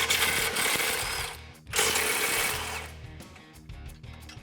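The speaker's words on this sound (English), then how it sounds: "grab an extension and a 13 millimeter deep socket, and what I like to do is go straight over the sway bar and remove those 2 bolts" A ratchet with a 13 mm deep socket and extension rapidly clicks while backing out exhaust isolator bolts on a 2018-2020 Mustang GT, two close bursts of dense ratcheting followed by slower clicks.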